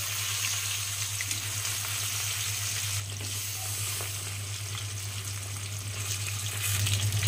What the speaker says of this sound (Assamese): এইফালে ভাজি আছো মই মাছ